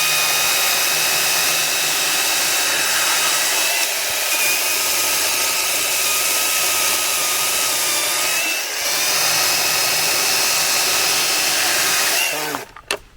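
A Stihl 161T battery top-handle chainsaw runs flat out through wood, a loud close continuous high whine with slight dips as the chain bites, cutting off abruptly at the end.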